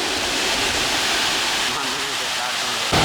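A mini waterfall pouring from an overflowing pond at Thurkapally, a loud, continuous roar of rushing water heard up close with wind buffeting the microphone, and someone talking over it.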